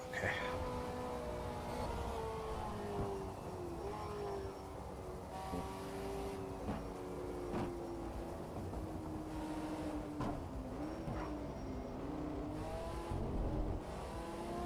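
Race car engine in Shift 2 Unleashed, droning steadily throughout with pitch sweeping up and down through gear changes and throttle shifts, loud and continuous.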